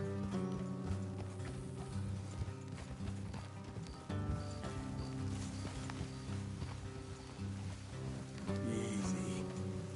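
Horse hooves clip-clop steadily over dense layered background music in the video game Red Dead Redemption 2, a rhythmic trotting of horses that stays mid-distance and fairly loud throughout.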